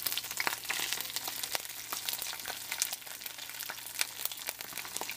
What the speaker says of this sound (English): there is some juice coming off of them from the cabbage raw. So it makes it spatter a little bit more.